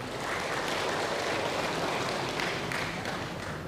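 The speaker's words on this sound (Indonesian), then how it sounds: "tepuk tangan untuk kita semuanya" Sustained church congregation applause after a sermon, dense and steady clapping from many hands filling the whole stretch without a break.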